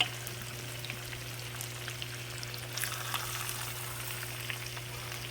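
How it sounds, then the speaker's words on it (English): Chicken cutlets sizzle quietly in a pan for chicken parm, browning on both sides, giving a faint, steady frying hiss with small crackles over a constant low hum, and no voices. "Fry them until they're brown on both sides."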